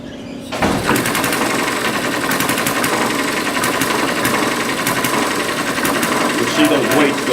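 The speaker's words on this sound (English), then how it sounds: "As it gets up to a certain RPM, the weights will sling out from centrifugal force." A small model engine with a centrifugal flyball governor runs at speed, a rapid, loud mechanical chatter like a sewing machine that starts abruptly and continues steadily, with someone talking over it.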